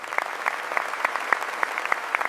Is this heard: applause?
yes